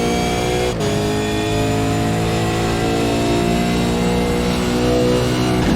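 Race car engine held on the rev limiter in first gear during a racing game at Bathurst, a loud, steady high-pitched drone with a brief dip near the start and no talk over it.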